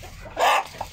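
A single short cluck from a crested chicken, close and moderately loud, lasting a fraction of a second amid quiet farmyard background.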